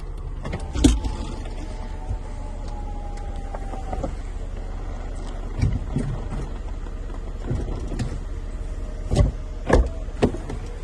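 The hydraulic convertible top of a 1995 Mercedes-Benz E320 Cabriolet runs with a steady motor whine, and sharp clunks and latch clicks punctuate the movement. The sound is close, with no voices.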